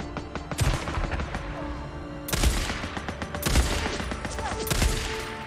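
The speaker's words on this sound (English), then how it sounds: "What are they firing at?" Gunfire in the video game Days Gone: dense, rapid bursts of automatic weapons with repeated sharp shot transients and booming reports, loud and continuous, with no talking.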